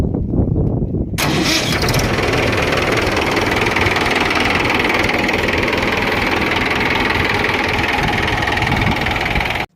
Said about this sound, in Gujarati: ચાલુ કન્ડિશનમાં એકદમ સેલ્ફ સ્ટાર્ટ ટ્રેક્ટર તમને જોવા મળશે.